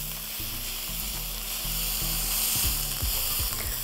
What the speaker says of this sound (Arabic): البصلة تقليبة سريعة كده، وبعد كده هنزل عليها بالمشروم اللي متقطع شرايح